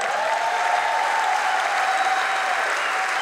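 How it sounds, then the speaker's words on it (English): Sustained applause from a concert audience at a tribute show for the performers, a dense steady roar of clapping with no voices standing out. "please give them a massive round of applause."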